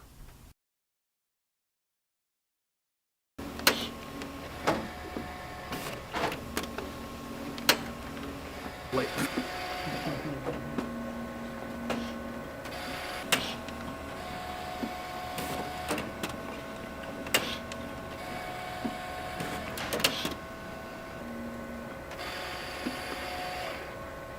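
A Xante En/Press printer whirs and clicks through a feed cycle loading catalog envelopes, with mechanical clunks and ratcheting pulls repeating steadily after a brief silence at the start.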